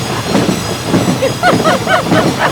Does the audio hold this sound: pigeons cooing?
no